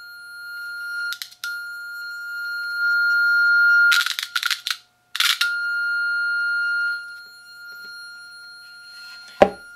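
A pure sine wave tone from a sine wave generator played through a horn-loaded speaker, a steady high whistle with harmonics and short bursts of crackly distortion, alone without talk.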